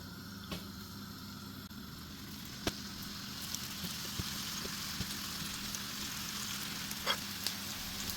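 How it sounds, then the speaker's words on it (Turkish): Köfte meatballs fry in hot olive oil in a pan, giving a steady, even sizzle with a few faint pops and crackles and no voices over it. "zeytinyağımız ısındıktan sonra köftelerimizi tavamıza şu şekilde sıralıyoruz"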